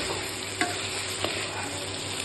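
Country chicken frying in a pan with green chillies, stirred in a steady low sizzle with a couple of sharp spoon scrapes against the pan.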